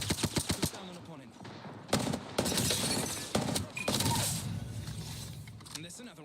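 Gunfire in the video game Apex Legends: rapid automatic bursts and single loud shots crack close by in a dense, continuous barrage, with game character voices talking over it.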